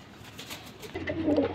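A flying pigeon coos softly nearby, a low throaty call that swells louder toward the end over quiet background noise.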